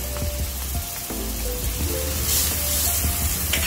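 Garlic sizzling in a pan of hot oil for spaghetti meatball sauce, a continuous close crackle and fry that stays steady throughout with light stirring and no talking.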